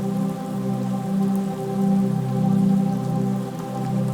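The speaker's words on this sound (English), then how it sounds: "I also added some rain down here as well" Steady rainfall from a processed sample sits inside a calm ambient mix, its soft patter blended with droning pad and piano tones that swell gently and recede over a few seconds.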